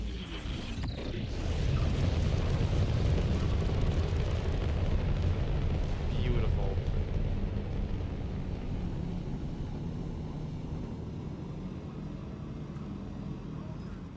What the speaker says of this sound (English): let's listen to that thruster sound again, just one more time